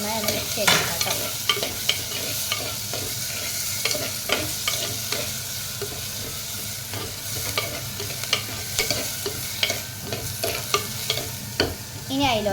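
Jackfruit seeds being stirred into a fish curry in a pan, a close steady sizzle with repeated rhythmic scrapes and clatters of a spoon throughout.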